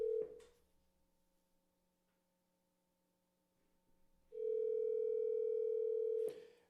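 A steady telephone dial tone hums faintly, then swells loud and clear for a couple of seconds before being cut off with a click.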